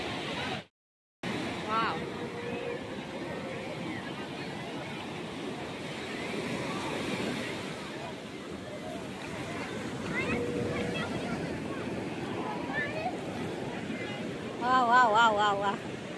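Rough, swollen sea off the Odisha coast rolls and crashes in a steady broadband roar, with wind buffeting the microphone and a brief dropout near the start; a voice briefly talks over it.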